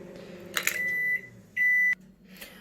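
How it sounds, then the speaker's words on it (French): A kitchen microwave oven finishing with two long electronic beeps, each close and clear over a quiet room, followed by a soft rustle. "mon micro-ondes s'est arrêté aussi"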